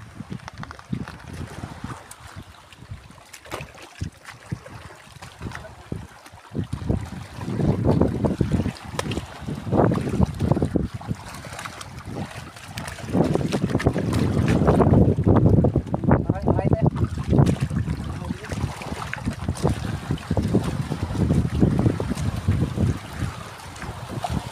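Strong gusting wind buffets the microphone at sea in stormy typhoon weather, with surging waves and water rushing around rocks, while people talk intermittently over the roar.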